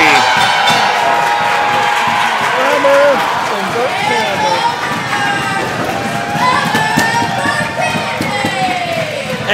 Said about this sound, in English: And the crowd's going wild here